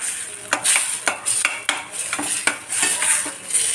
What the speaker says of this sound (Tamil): தக்காளி வந்து நல்லா வதங்கி ஆயில் வர்ற அளவுக்கு நம்ம வந்து வதக்கிக்கிடுவோம்